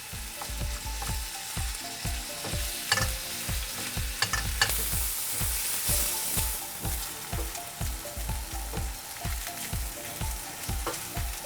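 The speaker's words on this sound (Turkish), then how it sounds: "kıymamı şöyle eze eze yağımın içinde güzelce kavurmaya başlıyorum" Minced meat fries loudly in hot oil in a pan for Kayseri yağlaması, mashed and stirred with quick repeated spoon strikes over a continuous sizzle, close up and without speech.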